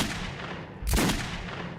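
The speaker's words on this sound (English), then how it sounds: "How many fucking shots do you take from a revolver?" A single revolver shot in Metro 2033 lands as a sharp, loud blast close by, with a low thump and a bright burst across the band, standing over a steady game ambience and followed by a brief ringing tail.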